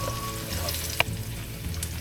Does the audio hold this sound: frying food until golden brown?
yes